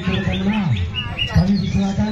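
A Murai Batu (white-rumped shama) sings at a bird contest, loud varied chirping and whistled phrases close by, over crowd murmur and voices in the background.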